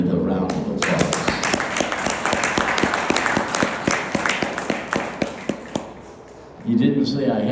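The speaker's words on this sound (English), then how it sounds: "I ask you to honor him with a round of applause" An audience applauds a Vietnam veteran being honored, a steady wash of many hands with sharp individual claps standing out. It thins toward the end before voices and cheering swell back in.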